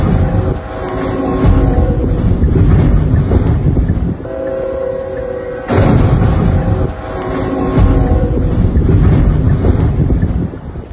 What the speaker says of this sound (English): a CSX train barreled into a tank being hauled by a truck at a railroad crossing